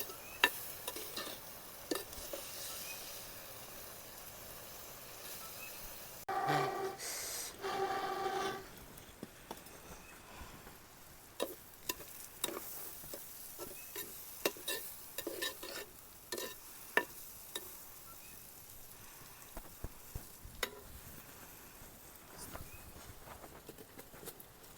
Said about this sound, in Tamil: கொஞ்சம் ஃப்ரை பண்ணணும்.